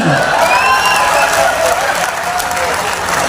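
An audience at a Hindi comedy poetry show claps, a dense burst of applause that carries on throughout with a few whistles over it.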